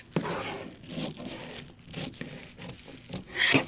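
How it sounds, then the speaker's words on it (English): Scissors snip through the sealed end of a plastic bag, giving a few short crinkly cuts and rustles close by, ending in a brighter crackle of plastic. "So we take our scissors"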